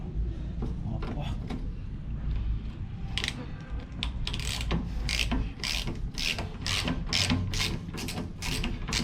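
A ratchet tool works a jammed motorcycle rear suspension bolt, giving rapid repeated clicking strokes that grow louder and more regular, with scraping and mechanical rubbing underneath and some talk mixed in.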